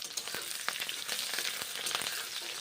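Chopped onions frying in hot oil in a pan, a continuous crackling sizzle with small pops and a few stirring scrapes, fairly quiet and close, without voices.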